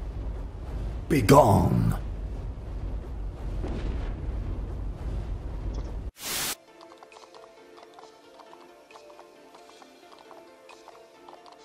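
A fireball transformation in the video game Zeus Battleground: a sudden whooshing burst followed by a roaring, crackling rumble, then a sharp cut to a quieter musical background, with brief speech heard.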